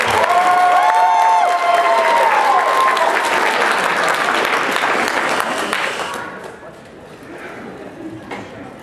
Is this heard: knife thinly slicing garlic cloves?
no